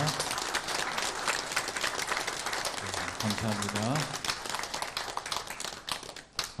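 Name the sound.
congregation applause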